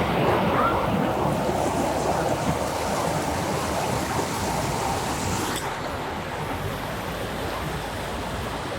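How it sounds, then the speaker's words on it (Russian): A small river in El Salvador, near waterfalls, rushes steadily as a broad, unbroken watery hiss close by, slightly louder at the start and with no voices over it. "Пытаемся перейти вброд эту речушку, чтобы спуститься вниз к водопадам"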